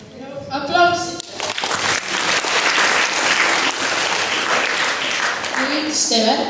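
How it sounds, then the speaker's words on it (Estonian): A crowd bursts into loud applause at a school graduation-style celebration, clapping swelling quickly and holding steady for several seconds, with a bit of speech and music at the start and end. "Aplausi."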